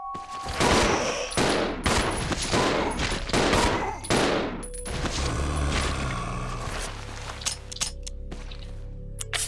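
In Resident Evil 0, rapid video game gunfire rattles in dense bursts for several seconds, then thins into scattered clicks and mechanical clatter as the ammo runs out.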